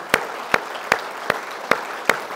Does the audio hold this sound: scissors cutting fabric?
no